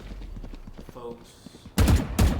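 Gunfire from a VALORANT match in a college esports broadcast, with faint bursts early and then two loud, heavy volleys near the end, as if a player were firing repeatedly, while a commentator talks over it.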